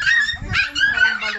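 A family's dog yips and barks in short, high bursts during a birthday gathering at home, close by, with voices mingling around it.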